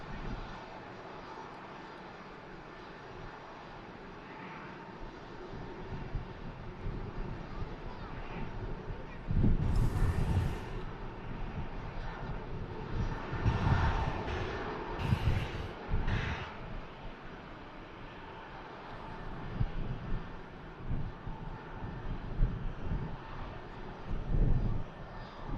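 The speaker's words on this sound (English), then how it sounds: "Right on this aircraft pushing back now." A jet airliner pushes back at Manchester Airport, a low engine rumble and whine carried on a distant, hollow airfield background with occasional louder swells and gusts, no voices heard.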